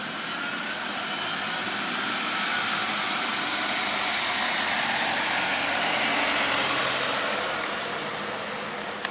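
An Arriva Northwest single-decker bus on the Route 3 Macclesfield Circular pulls away, its engine a steady, fairly loud broadband drone that swells slightly and eases off over the whole stretch, with no talk.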